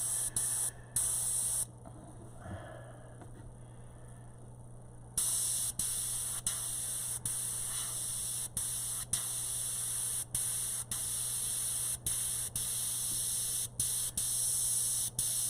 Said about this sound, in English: I'm not spraying a lot of paint.